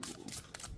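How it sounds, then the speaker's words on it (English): Tarot cards being shuffled by hand, a close, soft papery riffling with a few quick flutters, no voices. "Let's go ahead and shuffle again."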